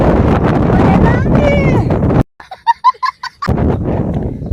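Heavy wind buffets the microphone in loud roaring gusts at an outdoor park in Bagasara, Gujarat, broken by a short quiet gap where a voice speaks before the blustering returns.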